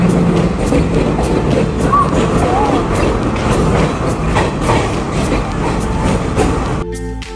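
Continuous heavy rumble and rattle of a moving Sri Lankan passenger train at about 55 km/h between Colombo and Kandy, close and loud, easing slightly near the end.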